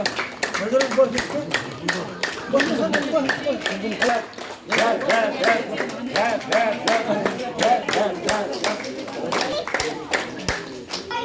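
A group of people clapping hands together in quick, steady rhythm during a yoga session at a neighbourhood celebration, with voices talking and calling over the continuous clapping.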